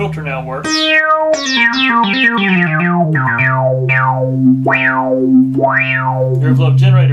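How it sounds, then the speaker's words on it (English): A restored Moog Multimoog synthesizer sounds loud sustained tones while its filter envelope generator shapes repeated bright swoops that rise and fall in arcs over a droning bass note, with no voices. "envelope generator for your filter works."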